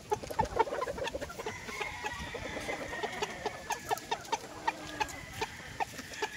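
Chickens cluck and murmur nearby in a farm yard, a scatter of short calls over a constant low background hum, with no talking.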